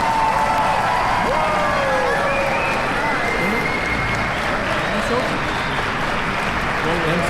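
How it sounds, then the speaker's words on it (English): Crowd applause and cheering for tuba musicians at an outdoor Christmas carol concert in Chicago, steady and full throughout with broad crowd noise and some voices mixed in. "So can we hear another round of applause for our wonderful musicians?"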